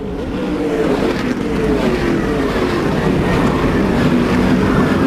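Speedcar Series race cars at Round 3 in Malaysia (2008) roar past at speed, a loud, steady engine drone with shifting pitch as several cars fly through together, no voices over it.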